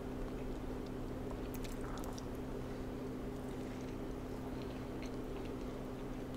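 A keto-friendly Sola bread bun is chewed close up, giving soft, squishy mastication sounds that continue steadily against a low, constant background hum.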